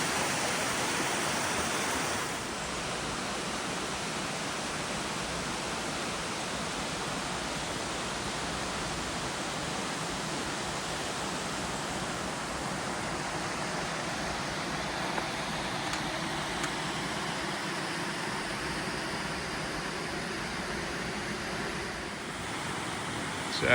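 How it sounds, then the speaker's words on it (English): Buddong Falls plunges down a gorge as a steady, dense roar of falling water, constant and fairly loud throughout with no voices. "So this is the first fall, and it plunges down a gorge there."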